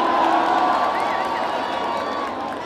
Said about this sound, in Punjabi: ਇੱਕ ਵਾਰ ਆਪਣੀ ਯੂਨੀਵਰਸਿਟੀ ਕੇ ਲਈ ਜ਼ੋਰਦਾਰ ਤਾਲੀਆਂ ਏਵਰੀਵਨ ਪਲੀਜ਼